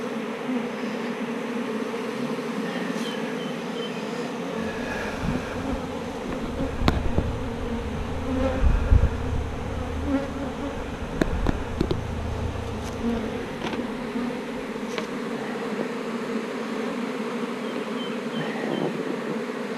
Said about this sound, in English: got the bees out of that vacuum